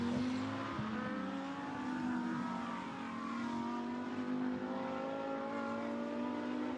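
Audi and KTM race cars at Pouhon, engines droning loud and steady with pitch sweeping upward as they accelerate, a continuous close roar.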